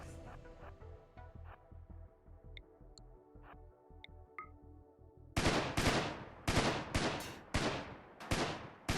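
Gunfire from colonists and a turret in RimWorld, scattered pops at first, then a loud rapid volley of bursts in the later half.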